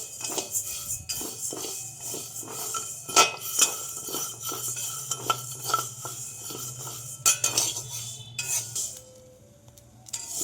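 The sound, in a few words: dry-roasting sabudana (sago pearls) in a kadai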